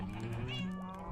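A single drawn-out cat meow from Minecraft, with a wavering, voice-like tone lasting just over a second, close and fairly loud.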